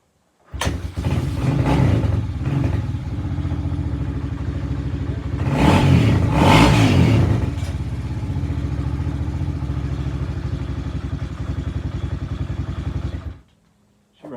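A Kawasaki KLX300R dirt bike engine cranks and catches, then runs steadily up close with a loud revving burst in the middle before cutting off near the end.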